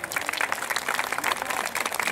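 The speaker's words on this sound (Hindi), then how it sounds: "जोरदार तालियों के साथ" An audience claps steadily in a hall after a Kumaoni and classical fusion performance, a dense, sustained burst of applause.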